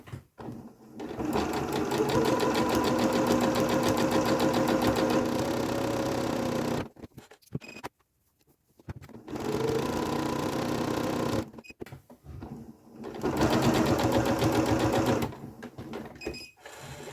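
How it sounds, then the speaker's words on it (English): A sewing machine runs gather stitches through jersey fabric in long steady bursts, stopping briefly between rows, close and loud with no talking. "you're going to sew 2 rows of stitching, 1 row just slightly next to the other"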